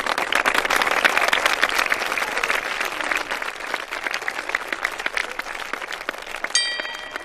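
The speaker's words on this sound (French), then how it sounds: "Et on applaudit." An audience applauds steadily throughout, a dense patter of many hands at moderate loudness with no voices over it. It comes from a 2001 Iranian film.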